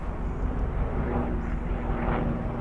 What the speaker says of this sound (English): There's even the pike helicopter going over the top.